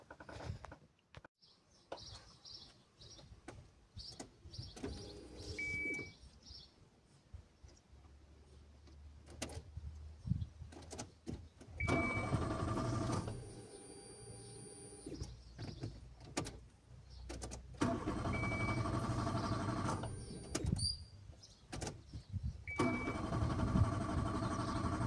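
A 2000s Nissan March K12 hatchback with a fuel pump fault: the key clicks on, a brief electric pump whir follows, then repeated bouts of starter cranking come in several long, loud bursts with pauses between them.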